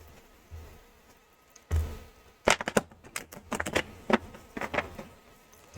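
A quick burst of riffling followed by a series of crisp, uneven flicks and taps as a tarot deck is shuffled close by.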